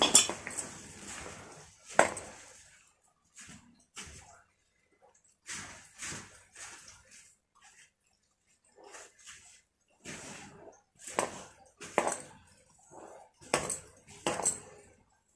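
Lentil batter ingredients for Telangana-style garelu get mixed in a bowl, producing intermittent scraping and clinking bursts separated by quiet gaps, close by and fairly faint, with a voice speaking in between.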